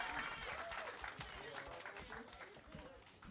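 A comedy club crowd claps and cheers continuously as a comedian takes the stage, a steady wash of applause at moderate volume.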